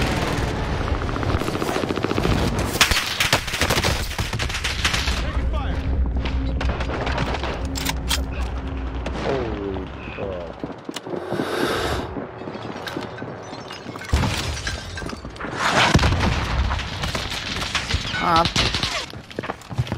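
Rapid automatic gunfire and scattered shots in a Warzone Season 3 Rebirth resurgence match, loud and nearly continuous, mixed with game noise and a voice talking.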